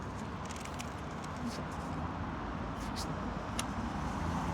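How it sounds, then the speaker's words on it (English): Cars in busy Manchester city-centre traffic make a continuous close road rumble and hiss, with a few brighter passing swishes and clicks standing out over the steady wash. "Cars everywhere. There's cars all over the place."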